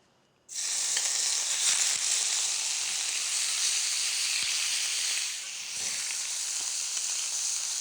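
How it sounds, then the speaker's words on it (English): Duck hits a hot pan of grapeseed oil for a quick sear, bursting into a loud, steady, close sizzle that holds for seconds and eases slightly toward the end. "I'm gonna put a little bit of grapeseed oil in here. And I'm just gonna give them a quick sear"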